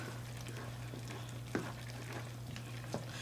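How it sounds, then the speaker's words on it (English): Chili powder and sugar stirred into skillet spaghetti, a soft steady simmering hiss over a low hum, broken by a few short spoon scrapes, quiet and without talk. "Now let's give that a stir."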